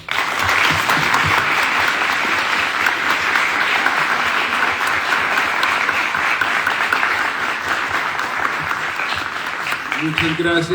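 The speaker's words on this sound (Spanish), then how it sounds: "Un fuerte aplauso, por favor" Loud, sustained applause from an audience at a book fair presentation in Popayán, a continuous roar of clapping that holds steady before a voice begins speaking near the end.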